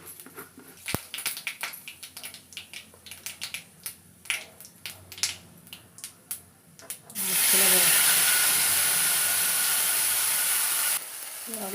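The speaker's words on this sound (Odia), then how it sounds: "ଫୁଟଣ ଫୁଟେଇବା।" Spices crackle sharply in a pan before a loud, steady sizzle and hiss takes over, lasting about four seconds, as they are tempered in hot mustard oil for a homemade masala eggplant dish.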